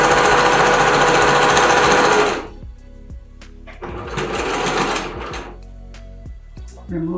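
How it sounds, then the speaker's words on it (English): A sewing machine stitches elastic onto a sleeve seam in a fast, loud mechanical chatter that stops, then runs again in a second burst, with a voice speaking in the pauses. "and then we're going to stitch."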